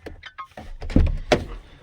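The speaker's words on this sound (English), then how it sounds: "opens the door" The door of a 2025 Ford Transit Custom Mk8 van, fitted with a Starline alarm, opens up close. A click and a latch release are followed by a couple of solid thunks and some rustling handling noise.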